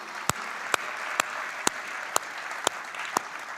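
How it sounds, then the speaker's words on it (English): An audience applauds partner award winners at a corporate event, with steady mid-level clapping and a few sharper claps standing out at regular intervals, and no talking over it. "a big round of applause and congratulations to all of you"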